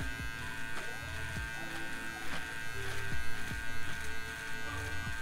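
Electric hair finishing clipper trimming hair during a fade cut, a close steady buzzing drone with small fluctuations as the blades move over the head.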